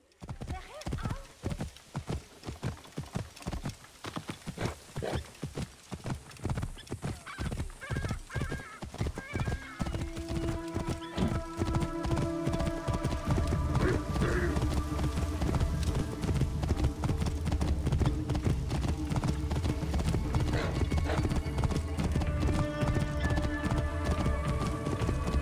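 Horse hooves gallop in the Egyptian setting of the video game Assassin's Creed Origins, with rapid rhythmic clip-clop beats and a whinny, then a loud, dense mix of game sounds follows.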